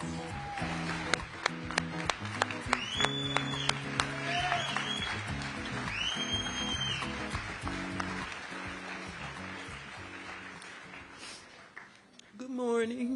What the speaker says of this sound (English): Y'all give a big round of applause for the parents of Tyre Nichols, Rovon Wells, and Rodney Wells.